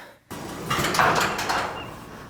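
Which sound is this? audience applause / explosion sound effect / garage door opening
garage door opening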